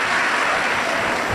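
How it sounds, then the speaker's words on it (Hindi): A large audience at a Hindu religious discourse on the Shiv Mahapuran claps in a brief, dense burst, a loud wash of hand claps with no speech. "जोरदार ताली बजाकर स्वागत वंदन अभिनंदन"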